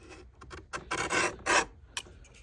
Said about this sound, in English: Obviously that leaves a scrape.